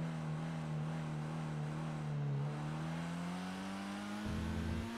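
A tuned car engine in a video game revs steadily at a mid pitch, its drone dipping slightly midway and then climbing with a fresh surge near the end, heard alone with no talk.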